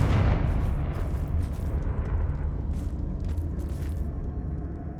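A Confringo fire spell bursts with a loud explosive boom in Hogwarts Legacy, a heavy blast that then trails into a long, rumbling roar of fire and debris lasting several seconds, with no voices.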